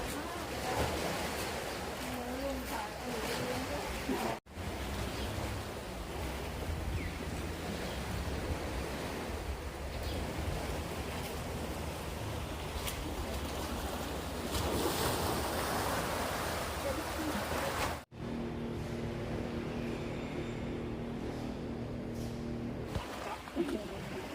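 Sea waves wash against the shore beside a Thai temple, where old electricity poles have been driven in as a barrier against erosion; a steady broadband surf roar with wind buffeting the microphone, continuous and fairly loud, with brief dropouts.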